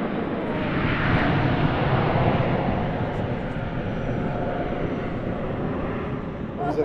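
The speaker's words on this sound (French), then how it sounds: "c'est au tour de l'A380 de s'élancer" A loud, sustained roar of an Airbus A380 jet engine at takeoff power at the Paris Air Show at Le Bourget, building slightly then holding steady, with people talking over it.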